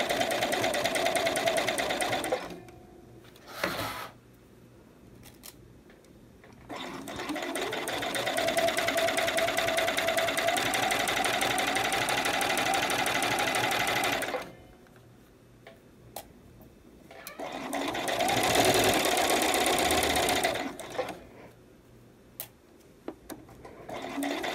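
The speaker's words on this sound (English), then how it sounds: "let's sew our 1/4 inch seam" A sewing machine stitches a 1/4 inch seam on a fabric gusset in several close bursts of rapid ticking whirr, separated by pauses with small clicks and handling noises.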